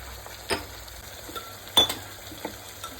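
Turmeric and cumin powder being stirred into a simmering kidney bean curry, a few scattered spoon scrapes and soft clinks against the pot over a quiet sizzle, close, no talking.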